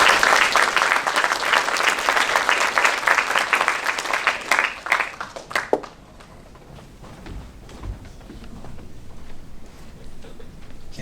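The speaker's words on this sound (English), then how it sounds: "Give them a round of applause." Audience applause for newly named student officers at a school installation ceremony, loud dense clapping for about six seconds that stops abruptly, followed by quieter room noise with a few scattered thumps and shuffling.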